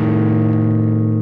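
A badly fretted power chord on an electric guitar rings out loud and distorted, sounding wrong, then sustains and slowly fades over about a second.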